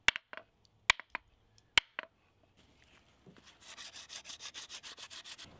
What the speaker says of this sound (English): The areas that are too burnt are sanded down.